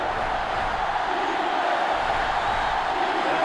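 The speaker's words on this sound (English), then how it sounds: "crowd is really letting them hear it." A dense, continuous stadium crowd roar in the NCAA Football 2005 video game, a steady loud wall of noise from the fans with no break.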